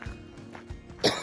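A single sharp cough bursts out near the end from someone fighting a minor bug with a draining throat, following a quiet stretch with faint low thumps.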